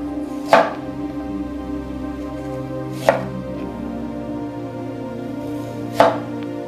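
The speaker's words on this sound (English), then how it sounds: "With the help of a sharp knife I'm cutting them like this." A sharp knife cuts an onion into rounds on a board, three crisp, separate chops spaced a few seconds apart over a steady low background hum.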